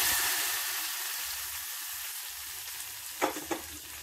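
Green peas masala curry sizzles gently in a pan as a soft, fading hiss, then a spoon gives two quick stirring scrapes near the end.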